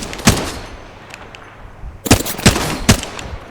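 Gunfire rings out in the battle royale game Apex Legends. One sharp shot is followed by a pause, then a quick cluster of three or four loud, close shots.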